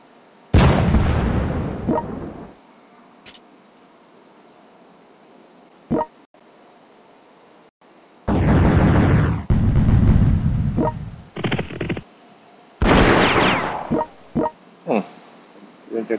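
Rocket artillery firing in the European War 6 strategy game: several loud, broadband blasts and salvos that come in separate bursts, each trailing off into rumble, with short gaps and smaller pops between them.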